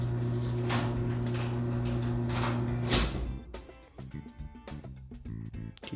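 A residential garage door, tested after keypad programming, runs with a steady motor drone for about three seconds, then its mechanism clunks and rattles to a stop as it closes fully. No one speaks.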